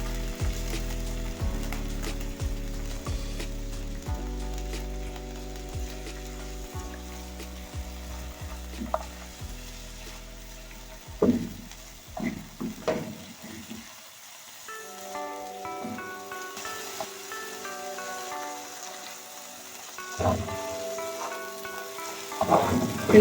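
Chicken samosa filling with ginger-garlic paste being sautéed in a pan, a steady sizzle with occasional stirring scrapes and clinks, close by, under a looping melodic background tune.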